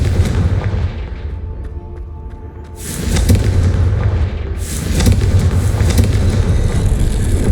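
A Confringo fire spell exploding in the game Hogwarts Legacy, with a loud rumbling blast that swells twice over heavy low background noise, with no talk heard.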